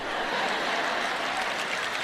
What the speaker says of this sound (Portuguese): Só tem uma pessoa aplaudindo isso.